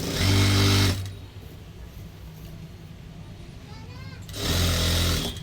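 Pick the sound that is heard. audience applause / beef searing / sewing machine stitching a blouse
sewing machine stitching a blouse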